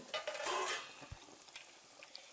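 Ariselu, a sweet rice fritter, fry in oil over a low flame, a faint sizzle with a brief louder burst at the start and a few light clinks of utensils.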